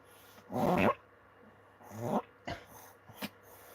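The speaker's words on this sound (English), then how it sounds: "my dogs are arguing about the candy sticks" Two dogs growl and snarl at each other over candy sticks, with two throaty bursts followed by shorter grumbles and huffs, close and moderately loud.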